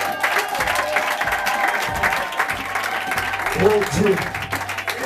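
Congregation applauding at a French-language church service, sustained dense clapping from a crowd of worshippers with scattered cheers, while a voice speaks over it.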